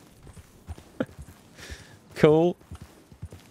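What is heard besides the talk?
horse hooves walking, from the video game Red Dead Redemption 2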